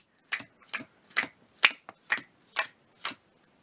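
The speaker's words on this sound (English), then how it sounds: "Alright, I will shuffle those back into the action deck." Cards being shuffled back into the action deck of The 7th Continent board game: seven short, crisp papery bursts in a steady rhythm, close and moderately loud, with no talk.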